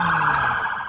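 Newark police car sirens wail loudly and continuously as the cars race toward a fatal shooting scene, steady and close with no voices.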